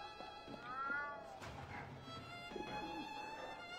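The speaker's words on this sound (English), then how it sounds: "Is that a cat?" A cat meows a few times in the video game Alice: Madness Returns, set among game music and ambient tones, with brief drawn-out calls rising and falling over the background.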